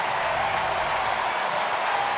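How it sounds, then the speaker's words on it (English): Stadium crowd at a baseball game roaring steadily after a Giants pitcher's first career home run on the last day of the season, a dense, continuous wash of cheering and applause. "And listen to this crowd."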